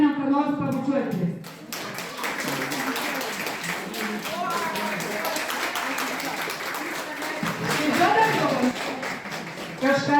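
Applause from an audience at a thank-you evening event, sustained dense clapping for several seconds, loud and close, with voices talking over it and a brief dip early on.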